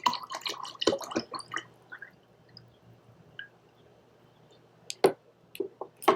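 Tampico juice poured gently into a drink gives a few soft, close splashes and drips, with small clicks at the start and end and quiet gaps between, no voices.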